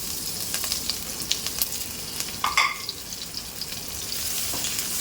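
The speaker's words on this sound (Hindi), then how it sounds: "सौते करेंगे, अच्छे से खुशबू आने लगेगी" Garlic and chili sizzle steadily in hot oil in a pan as the base for chicken noodles, a continuous bright frying hiss with a few stirring clicks, close and alone without talk.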